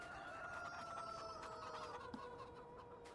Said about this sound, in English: Look at these free range chickens.